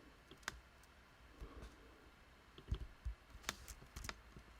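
Scattered computer mouse clicks during video editing in Premiere Pro, quiet and close, coming singly and in small irregular bursts over faint room hush, with no talking.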